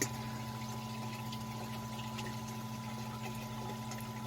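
A fuel pump being installed in a BMW E36 with an LS1 swap runs steadily, a constant electric hum and whir as it pumps fluid quickly, with no talking.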